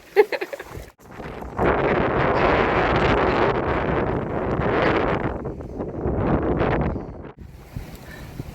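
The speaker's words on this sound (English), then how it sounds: "we're down on the ground because the wind is whipping around" Wind buffets loudly across a grassy hill in roaring, uneven gusts that rise and fall over several seconds, with brief lulls between the blasts.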